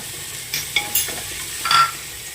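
Turmeric, chicken masala and biryani masala frying in a pressure cooker, stirred with a few quick scraping strokes and clinks over a faint steady sizzle.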